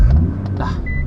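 Deep rumble of a 1,000 horsepower Nissan GTR engine heard from inside the car, a loud steady low drone with a few brief higher chirps, no talking.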